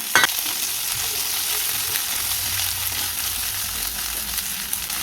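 Masala and cut green chili sautéing in a pan for chicken gravy, a loud, continuous close-up sizzle with light stirring scrapes and no talking.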